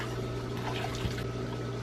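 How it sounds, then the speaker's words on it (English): Water squirts and sprays in a steady hissing stream, fairly faint and continuous, around a cat that has found a snake outdoors. "Oh no, we're getting squirted."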